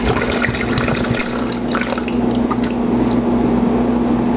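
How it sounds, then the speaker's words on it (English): Coconut water poured from a fresh coconut, a continuous splashing, trickling stream of liquid close by with dripping and gurgling, no talk. "There's your coconut water."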